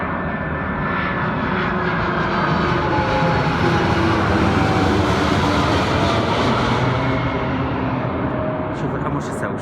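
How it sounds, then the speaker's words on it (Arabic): An airplane flies low over a street near an airport, its loud broadband engine roar continuous and close for about ten seconds. A voice can be heard beneath it. "شوف اخوان هاي الطيارة"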